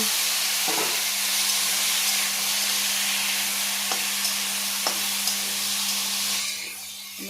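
Chickpeas and cumin seeds frying in a pan, a steady loud sizzle and hiss with a few scraping stirs of a spoon, fading slightly at the end.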